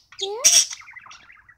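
A pet budgie gives a short burst of chirps and tweets, close and fairly loud, with a rising whistle followed by rapid chattering that fades out.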